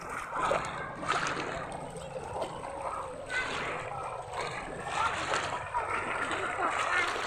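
Strong river current splashing and sloshing around people wading through deepening water, a steady broadband rush throughout with voices talking over it.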